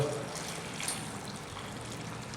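Water poured over freshly cut eggplant pieces for aloo baingan, a steady close trickling pour lasting a couple of seconds with no talk.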